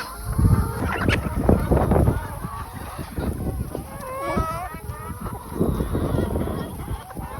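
Chickens crowd and squabble over fresh greens on a farm, a busy close mix of clucks, honk-like squawks and scratching that keeps up steadily throughout, with harsher calls bunched near the start and middle.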